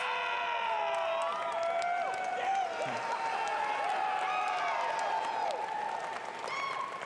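Audience applause at the Bethesda E3 2019 conference: dense, steady clapping and crowd noise filling the hall for several seconds, with some cheering and whistles mixed in.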